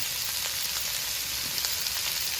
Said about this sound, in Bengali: এবার পেঁয়াজগুলোকে একটু নেড়ে চেড়ে ভেজে নেব